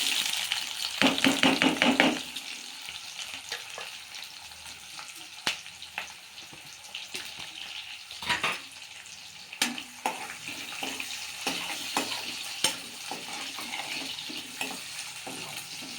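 Cloves, a cinnamon piece and a torn bay leaf fry in hot oil with a continuous crackling sizzle, punctuated by sharp stirring scrapes and clinks of a utensil, close and fairly loud, with no talking.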